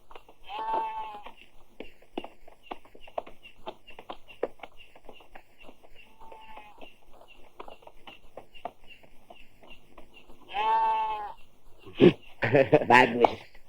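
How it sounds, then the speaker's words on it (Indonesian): Goats bleat in an Indonesian village in a 1975 action film. Several separate wavering calls come amid faint rustling, and voices and busy sounds rise near the end. "Jumri, bawa tuh kambing-kambing"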